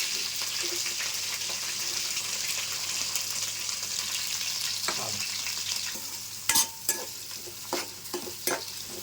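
Chopped onions fry in hot oil with curry leaves, green chilies and fenugreek seeds, a steady close hiss that turns busier near the end with sharp clatters of stirring, and no voices.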